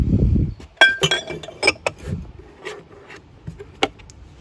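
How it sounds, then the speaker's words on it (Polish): Drinking glasses from a full set clink and rub against each other as they are handled in a dumpster, with several sharp close clinks spread over a few seconds. "Cały zestaw szklanek."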